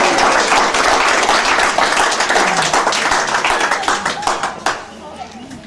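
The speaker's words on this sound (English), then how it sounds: "So we give ourselves a cheer." A family reunion crowd cheers and claps together, dense loud applause and shouts that gradually thin out into scattered claps before fading.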